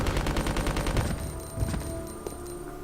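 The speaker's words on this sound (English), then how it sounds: "two targets can be hit with the submachine gun" A submachine gun in Resident Evil Code Veronica X fires a rapid, loud burst of shots for about a second, then the reports thin out into scattered echoing hits and a fading ring.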